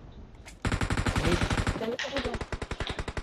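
Rapid automatic gunfire in PUBG Mobile, a steady stream of sharp evenly spaced shots close by, with a brief gap near two seconds before the bursts resume; a voice speaks briefly.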